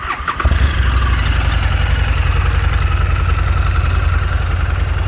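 A 2016 Harley-Davidson VRSCF V-Rod Muscle with stock exhaust starts with a quick crank and settles into a loud, steady, close-up idle with a rhythmic low throb.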